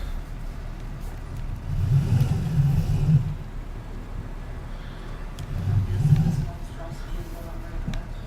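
A tractor engine in Farming Simulator 19 runs with a steady mid-pitched drone, swelling in two low rumbling surges as it revs, heard alone without talk.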